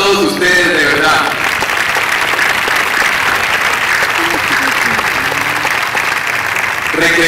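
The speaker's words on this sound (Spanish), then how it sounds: "Un aplauso a todos ustedes, de verdad" Steady applause from an audience at a press conference for the film Roa fills the room, continuous and loud throughout, with voices talking over it at the start and end.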